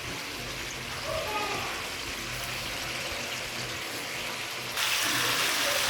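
A little hot water poured into a pan of braised chicken curry masala, a soft continuous trickling wash that swells louder near the end, with no one talking over it.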